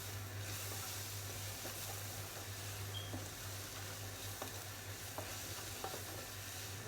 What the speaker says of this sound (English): Give that a stir. I'll stir it for a few minutes just to cook the flour up.